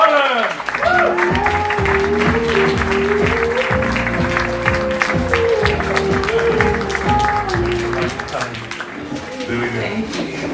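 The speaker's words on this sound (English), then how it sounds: "Give a massive round of applause for Jessica Bonin!" A conference audience applauds a guest speaker at a startup event in Cape Town, sustained clapping filling the room from start to finish with cheering and talk mixed in throughout.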